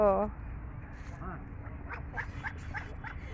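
Ducks paddling on the water at a zoo give several short, nasal quacks in a loose cluster, fairly close by, while a person talks over them.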